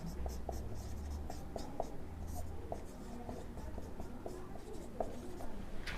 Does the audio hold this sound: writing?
yes